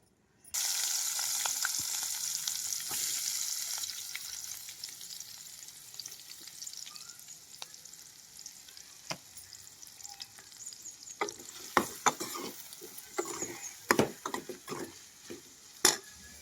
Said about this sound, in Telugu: ఉల్లిపాయలు పచ్చిమిరపకాయలు అయితే కొంచెం అయితే మగ్గినాయండి చక్కగా